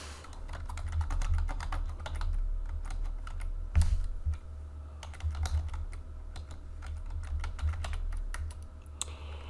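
Steady typing on a computer keyboard while writing in software. Soft, rapid key clicks patter close by in a quiet room with a few louder strokes and no voices.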